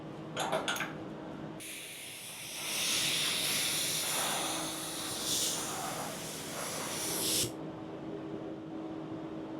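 A steady, loud hiss of a spray gun spraying lacquer onto bleached, scuff-sanded wood in a spray booth runs for several seconds after a brief burst, then cuts off sharply.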